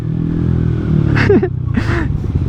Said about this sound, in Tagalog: Tapos 3 engine brake, downshift.